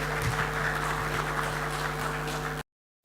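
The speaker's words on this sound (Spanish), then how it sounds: "Démosle un aplauso para subirle el ánimo a Manuel" An audience applauds steadily to welcome speaker Manuel Rivas, a systems engineer, at a technical talk, a dense, even wash of clapping under a faint electrical hum that cuts off abruptly.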